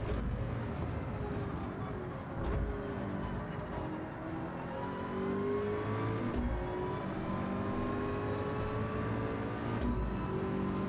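Rallycross car engine in a sim race, revving steadily through the clip with rising and falling pitch over a dense mix of other engines, loud and continuous.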